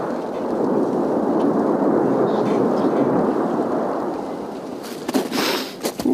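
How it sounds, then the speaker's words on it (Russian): Gunfire and shelling heard during a military inspection near Debaltseve in January 2015: a sustained, loud, rumbling roar fills the clip, with several sharp cracks and bursts near the end. "Во время осмотра снова звуки стрельбы."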